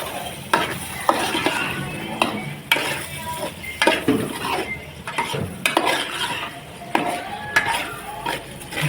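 Eggs fry with masala in a pan, a continuous close sizzle punctuated by frequent clinks and scrapes of a utensil stirring against the metal.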